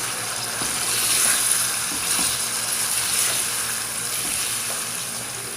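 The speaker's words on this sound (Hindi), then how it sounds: "और 4 से 5 मिनट तक हम तमाम चीज़ों को अच्छे से फ्राई कर लेंगे।" Chicken, potato and spinach frying with green chillies in a pan, giving a continuous bright sizzle with faint stirring clicks and scrapes underneath, close and steady throughout with no speech.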